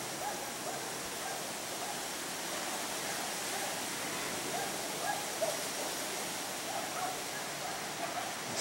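Steady broad roar of surf breaking at Armação and Matadeiro beach on a windy day, continuous wash of waves with no distinct individual crashes, wind noise mixed in.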